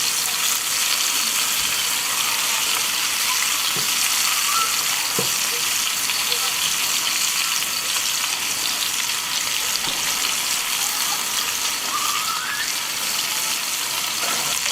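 Veal cheeks sear in hot fat inside a Dutch oven, a loud, constant close-up sizzle and crackle that holds steady throughout with occasional faint clinks.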